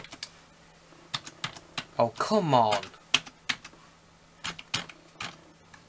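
A computer keyboard clatters with quick, uneven bursts of close keystrokes, and someone speaks briefly partway through.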